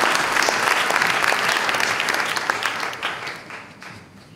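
An audience at the 2018 Prix Edgar Faure book award event applauds a political journalist with loud, dense clapping that holds steady, then tapers and fades over the last second or so.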